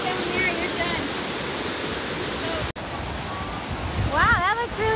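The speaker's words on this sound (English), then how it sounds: "That's a big waterfall." Superior Falls roars steadily, a loud broadband rush of falling brown water, with a voice briefly speaking over it near the end.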